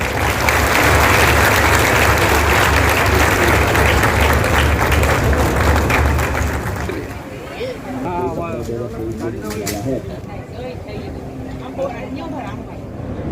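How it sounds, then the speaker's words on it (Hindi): Loud, dense applause from an audience at a military protection exhibition event in Borivali, Mumbai, filling the first several seconds before fading into a public-address voice and lighter crowd noise. "जोरदार ताली हो जाए।"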